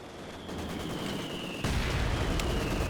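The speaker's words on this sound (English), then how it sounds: "Mortar shell coming in does not take out that anti-tank partisan." A mortar shell slams down in a Company of Heroes 2 battle, an abrupt loud crash that breaks into sustained noisy rumble after a quieter stretch of steady background battle sound with a high whine.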